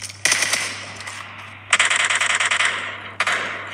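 Rapid automatic gunfire in a mobile shooter game plays in three bursts of quick repeated shots, loud and close, separated by short pauses over a low steady hum.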